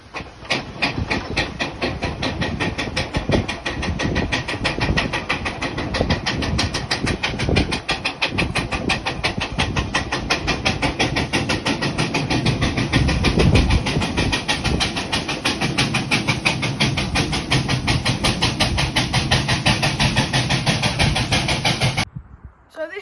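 A Mamod TE1A toy steam engine runs steadily with a fast, even chuffing and constant hiss, loud and close, stopping abruptly near the end.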